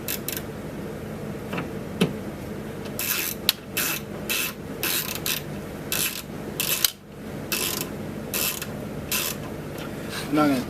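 Screws are threaded into the door of a 2001 Dodge Dakota Quad Cab, probably with a ratcheting tool, giving repeated close rasping ratchet bursts in a steady rhythm over low background noise. No voices are heard.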